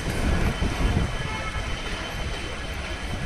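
A metro train rumbles at Whitefield (Kadugodi) metro station in Bengaluru, a steady loud rolling roar with low rail rumble throughout, strongest at the start and easing slightly toward the end.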